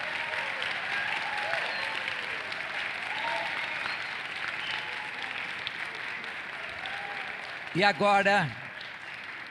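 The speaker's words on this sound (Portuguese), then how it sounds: "uma salva de palmas para eles" Wedding guests in an auditorium applaud the newly presented couple, steady moderate clapping throughout, with someone speaking over it near the end.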